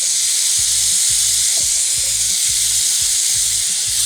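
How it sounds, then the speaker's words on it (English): Stewed tuna with tomatoes sizzles in a pan over high heat, a close, steady frying hiss punctuated by regular rhythmic low knocks, likely stirring or the pan shifting, with no talk. "we're cooking this on high heat"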